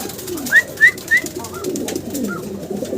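Big fancy pigeons, males and females kept by a pigeon seller, call out in three short, clear rising notes in quick succession early on, then fall quiet over a low background murmur.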